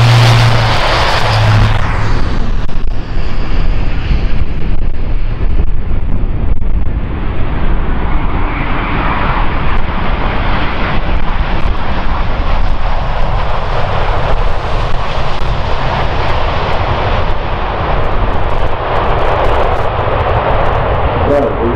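Airbus A400 military transport at an airshow starting its take-off run, a loud, sustained roar of turboprop engines with broadband rumble that builds and holds throughout, close and powerful.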